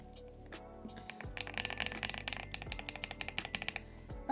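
A mechanical keyboard with Lilbong Greywood V4 switches and dye-sub Cherry profile keycaps is typed on in a quick run of close, crisp keystrokes at a steady rhythm, with no voice.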